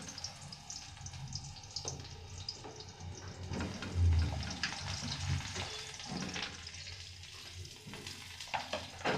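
Eggplant pieces dropped into hot oil with panch phoron, a moderate sizzle and spatter with a few louder bursts and some stirring, otherwise fairly quiet.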